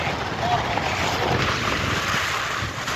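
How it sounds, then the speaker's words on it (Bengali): Strong storm wind buffets a boat on the Jamuna river, a constant loud roaring rush with water wash underneath, filling the scene without a break. "ঝড় কিন্তু বয়ে যাচ্ছে, বাতাস কিন্তু 70 থেকে 80 ডিগ্রি কিন্তু চলে আসছে"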